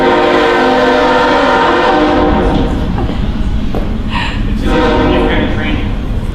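Loud train sound effect played as a break jingle at a live stage event, a sustained horn-like rumble with rail clatter filling the whole stretch.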